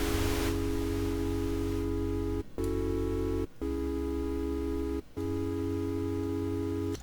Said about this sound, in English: Just a really nice textured white noise just to go underneath it.